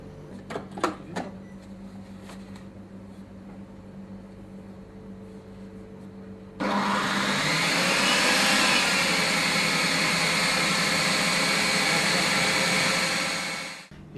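After a few faint clicks, an ice cream machine starts up and churns truffle ice cream with a loud, steady whirring hum that runs for several seconds before winding down.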